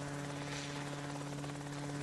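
A rotary-wing helicopter in flight makes a continuous, loud, droning rotor and engine hum with a steady pulsing buzz throughout.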